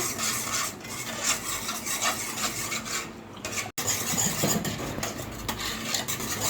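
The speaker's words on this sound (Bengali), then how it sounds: "এই যে ভালো করে এটা মিক্সড করে নিলাম" Yogurt and milk mixture being stirred in a pot, a continuous scraping and rubbing of a utensil against the pot with a brief pause midway, close and fairly loud.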